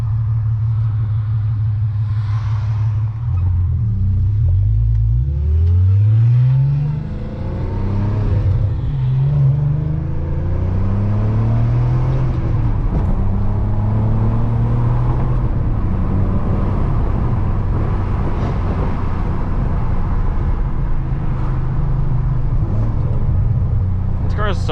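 An R32 car accelerates and drives on a road, its engine note rising in steady pitch sweeps through the gears, loud and close throughout, with a person talking over it.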